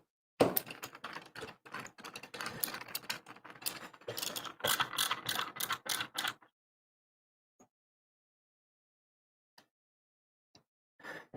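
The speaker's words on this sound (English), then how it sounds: "Let's start putting B screws in" Screws being driven while building an Arcade1Up arcade cabinet, with a fast, close run of clicking, ratcheting bursts for several seconds, then quiet with a few faint isolated clicks.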